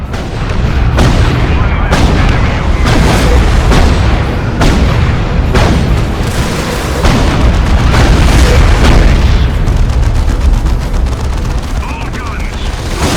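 Cannons and missile launchers fire in the Dawn of War II: Chaos Rising strategy game, a dense run of loud booming blasts and crackling gunfire about every second under battle noise and game voices.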